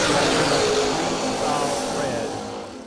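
Drag race cars launching off the line at a Christmas bash event, including a Chevy II wagon dialed at 5.74, a loud broadband engine roar that fades slightly over a few seconds, with a commentator talking over it.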